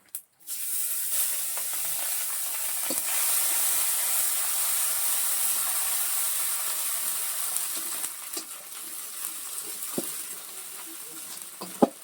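Dried chillies with ginger paste and cumin paste hit hot oil in a pan, giving a loud, steady hiss and sizzle that carries on for the whole stretch, with a few faint stirring clinks.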